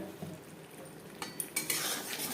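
Chopped snake gourd goes into a fish curry in a pan of cooked-down spices and is stirred, with a spoon scraping and clinking against the pan over a faint low sizzle, growing busier near the end.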